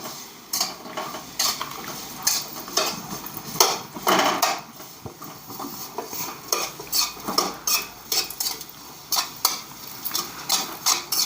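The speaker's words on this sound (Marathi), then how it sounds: "त्याच्यामध्ये खजूर टाकून घ्यायचे ते पण असे तळून घ्यायचे" Dates frying in a pan while being made into coconut laddoos, with repeated metallic clinks and scrapes of a spoon against the pan over a soft, steady sizzle.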